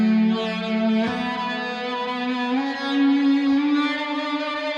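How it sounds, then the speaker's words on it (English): Electric guitar run through an effect with a smooth, bowed EBow-like swell and reverse delay, sustaining a steady harmonic-rich tone that glides in pitch over nearly five seconds, loud and alone. "It's got a very Ebow sort of like sound"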